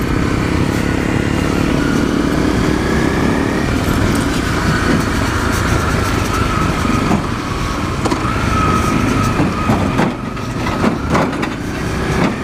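A dual sport motorcycle engine drones steadily while riding on a dirt road near Fawnskin, loud and close with wind buffeting, continuous with no talk.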